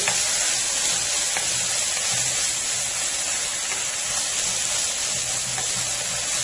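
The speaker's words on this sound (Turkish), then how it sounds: "Yani eti pişirdiğim zaman caz diyecek sesi hissedeceğiz" Meat for a sour-cherry sauté sizzles loudly and steadily in a hot pan, a dense continuous hiss with a few faint pops and no talking.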